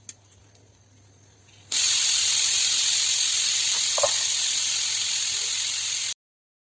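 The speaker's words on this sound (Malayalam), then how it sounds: "പീസ് വേവിക്കാൻ വെച്ചിട്ടുണ്ട് കേട്ടോ. അതവിടെ വിസിലടിച്ചുകൊണ്ടിരിക്കുന്നുണ്ട്." A pressure cooker holding green peas and potatoes suddenly lets out a loud, sustained whistle with hissing steam that runs steadily for about four seconds and then stops dead, after a quiet kitchen background.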